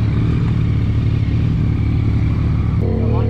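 Yamaha MT-09 SP motorcycle accelerating along a straight, its engine note loud, close and continuous with a strong low rumble, dropping to a steadier tone near the end.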